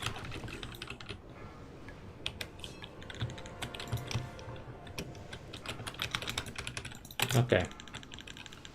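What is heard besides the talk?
typing on a computer gaming keyboard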